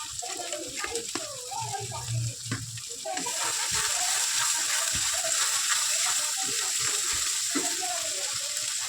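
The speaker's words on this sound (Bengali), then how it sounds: "মশলাটা কষাবার জন্যে এই মিক্সিটা ধুয়ে জলটা দিয়ে দিলাম" Water from rinsing a mixer jar pours into a cooking chicken masala, a steady rushing stream that starts a few seconds in, following a stretch of sizzling and birdsong with a voice talking.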